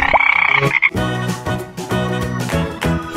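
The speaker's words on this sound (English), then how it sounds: "Frog." A frog croaking in a cartoon animal sound game for kids, a rapid series of loud, buzzy, rhythmic croaks repeating close up.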